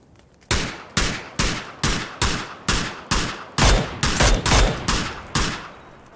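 Close, loud gunfire in PUBG: a steady series of about twelve sharp shots spaced roughly half a second apart, each with a short decaying tail, with no talk over them.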